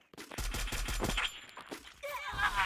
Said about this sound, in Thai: อิ้ยยิงแรงแจ๊ดแต๊ด แป๊ดแป๊ดทั้งนั้นเลย